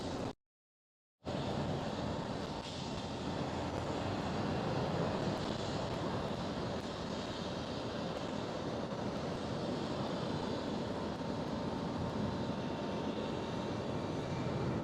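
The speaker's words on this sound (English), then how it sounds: "There goes the Lufthansa" A Lufthansa airliner passes at Amsterdam Schiphol airport, a broad, steady engine roar at middle distance after a brief dropout at the start, with no talking over it.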